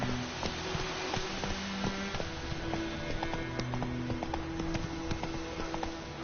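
Roach the horse galloping in The Witcher 3, with steady close hoofbeats clip-clopping throughout over a low game ambience.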